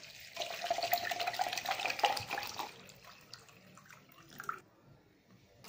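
Demineralized or reverse-osmosis water is poured into a beaker while mixing a toilet cleaner, giving a close, splashy stream for about three seconds that then tapers off into quieter trickles.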